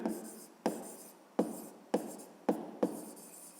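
Handwriting on paper while a fifth-grade math answer is written out, a series of about six sharp pen taps and short scratching strokes, each fading quickly, close and quiet with no voices.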